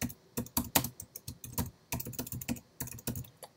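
Close, clear keystrokes on a computer keyboard while entering wiki markup text, a quick irregular run of sharp clicks with brief pauses between bursts and no speech.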